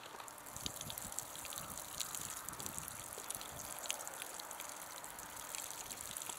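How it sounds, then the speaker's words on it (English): Water trickling and splashing onto newly transplanted cauliflowers in an outdoor garden row in north central Alberta, a steady close gushing stream with scattered drips and no talking. "And just giving a little extra water."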